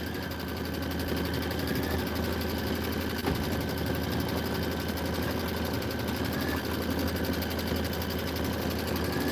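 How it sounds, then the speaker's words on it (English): An embroidery machine stitches a Kimberbell design with a steady, continuous mechanical hum and fine rapid needle rhythm, even and unbroken throughout. "This is 3 minutes of stitching."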